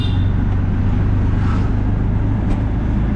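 A tuk-tuk engine drones steadily in third gear, a loud, low continuous rumble close by with no talk over it.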